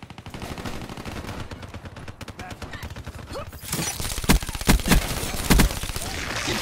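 Automatic gunfire in a Call of Duty: Black Ops 3 multiplayer match, with sustained rapid bursts growing louder and punctuated by several sharp, heavy shots near the end, over busy game noise.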